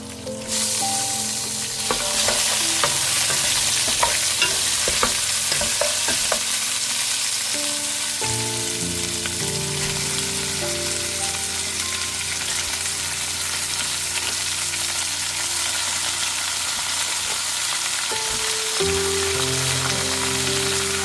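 Washed meat sizzles and fries steadily in a hot pan, a dense continuous crackle with occasional scraping as it is stirred, close and loud without talk.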